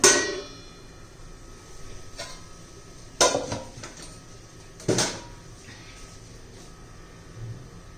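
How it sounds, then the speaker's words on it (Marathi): A lid set onto a pan of cooking cabbage in a home kitchen gives a few metallic clangs and clinks, close and moderately loud, spread across the moment with quiet gaps between. "झाकण ठेवते मी"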